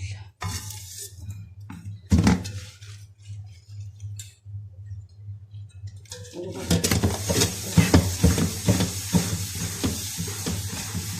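Clattering pots, including aluminium pots and milk pans, and dishes under running water, with scrubbing and clinks that grow busier and louder toward the end.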